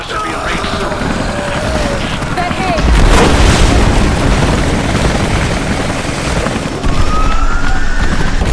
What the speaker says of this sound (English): Those choppers should be in range soon.